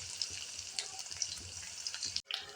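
Green chilies fry in hot oil in a pan for Mumbai-style pav bhaji, giving a soft, steady sizzle with light crackles. The sound breaks off briefly near the end.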